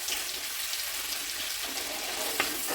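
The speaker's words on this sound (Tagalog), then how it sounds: "I-brown muna natin siya ng ganito." Turkey mince browning in a pan, a steady bright sizzle and crackle of frying meat that holds close and even for the whole stretch, with no talking.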